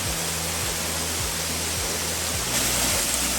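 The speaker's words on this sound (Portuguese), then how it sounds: "Olha a vazão dela, quantidade de água que vem." A small waterfall on a rural property flows in a steady, close rushing wash of water that stays even and unbroken throughout, with no voices over it.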